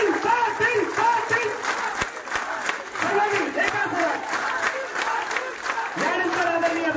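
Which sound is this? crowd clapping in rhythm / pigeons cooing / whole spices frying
crowd clapping in rhythm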